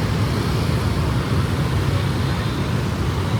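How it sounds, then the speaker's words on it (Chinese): A busy evening street in Ho Chi Minh City with an endless stream of motorbikes and other traffic gives off a dense, continuous roar. It is steady and close, with no break and no voices. "源源不断的摩托大军"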